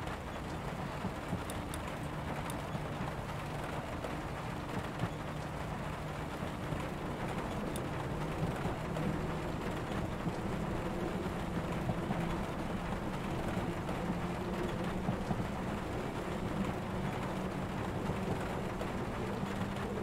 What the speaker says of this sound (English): This rain sounds so nice.